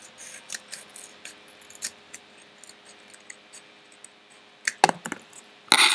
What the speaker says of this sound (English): I'm going to take my scissors and I'm going to start cutting by the line